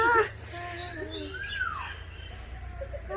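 A parrot gives a run of whistly chirps and squeaky calls, close and moderately loud, with a longer sliding whistle in the middle and softer chatter toward the end.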